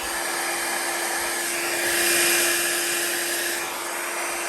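A heat dryer blows continuously to dry alcohol ink on paper, a steady loud whir with a constant tonal hum that swells slightly midway and then settles.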